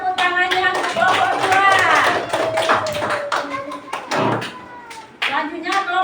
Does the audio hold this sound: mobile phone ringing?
no